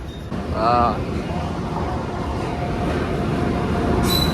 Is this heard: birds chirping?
no